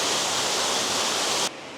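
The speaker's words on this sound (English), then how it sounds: "The water is going by itself. It's going through the stones, down, and going up outside." Water rushes steadily over and through stones inside an abandoned gold mine, a dense continuous hiss that cuts off abruptly.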